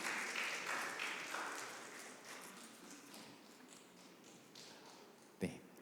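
Applause from a church congregation at a Sunday service, a broad wash of clapping that swells at the start and slowly thins out, with one sharp knock near the end.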